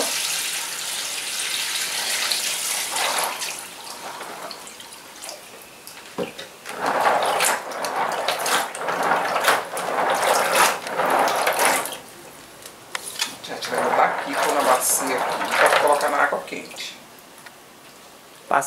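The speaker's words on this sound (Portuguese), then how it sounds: "bora lavar essa bacaba aqui." Bacaba fruit is washed in water, with splashing and running-water bursts that come and go in several loud stretches separated by quieter pauses, recorded close up.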